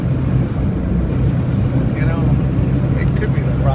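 A car's engine idles steadily at close range with a slight rough, uneven bobble in its note, a continuous low rumble that holds level throughout, joined briefly by faint background sounds.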